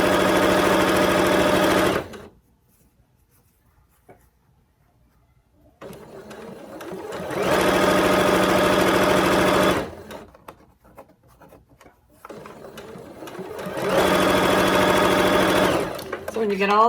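Sewing machine stitching a long fabric seam in three loud sustained whirring runs separated by pauses filled with quiet handling noises.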